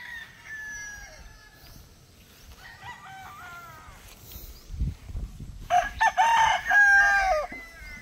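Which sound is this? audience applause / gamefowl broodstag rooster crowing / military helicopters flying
gamefowl broodstag rooster crowing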